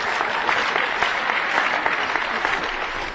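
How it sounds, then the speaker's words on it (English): Applause from a lecture audience, a dense steady wash of many hands clapping throughout, loud and close. "I don't know if you're applauding the questioner or me"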